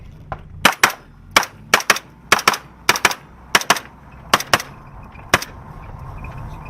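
Gunfire during a security training drill, roughly a dozen sharp, loud shots in irregular pairs and singles over several seconds, with a faint outdoor background between them.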